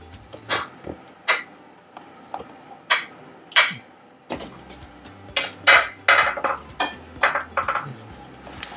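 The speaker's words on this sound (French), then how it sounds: "on va mettre la pâte dans les moules" Metal spoon scraping and tapping blueberry muffin batter into a muffin tin, a series of irregular sharp clinks and knocks, close and fairly loud, with no one talking.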